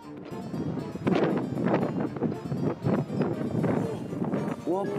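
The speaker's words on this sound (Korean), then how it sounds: "와, 바람 장난 아니야." Strong, cold gusting wind roars in steady surges against the microphone outdoors, with several people exclaiming and talking loudly over it throughout.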